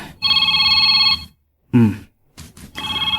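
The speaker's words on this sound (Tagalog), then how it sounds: "Adaw mauawag iti cellphone ko." A cellphone rings loudly and close by in bursts of bright electronic trilling tones, pausing briefly between rings, with a short low voiced grunt or utterance in one gap.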